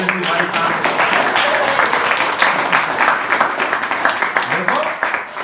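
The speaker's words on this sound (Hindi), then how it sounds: "जोरदार ताली बजाओ विदेशी भाई साहब।" An audience claps vigorously in a hall for a guest from Armenia, a dense, sustained wash of many hands close by that thins slightly toward the end, with voices mixed in.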